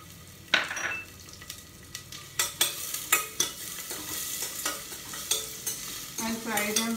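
Onion pieces frying in a pressure cooker pot, sizzling under a series of distinct spoon scrapes and clinks against the metal, close and fairly regular.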